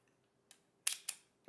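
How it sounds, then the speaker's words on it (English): A 35mm film camera's shutter is pressed, giving a soft click at about half a second and then two sharp mechanical clacks close together, the shutter firing and the advance, up close in a quiet room with a faint tick at the end. "press shutter."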